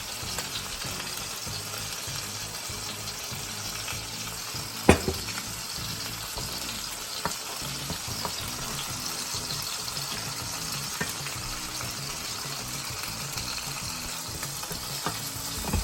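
Blackened chicken pasta sauce bubbling and reducing in a pan, a steady close sizzle with soft pops and a few light clinks of a utensil, no talking.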